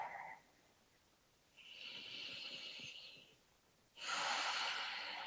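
Person breathing through a yoga pose, two slow audible breaths, a drawn-out inhale then a longer, stronger exhale, close and airy with no talk.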